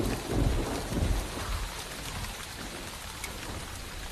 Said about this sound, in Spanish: El sonido de la lluvia y el trueno es absorbido por los gruesos muros de las fortificaciones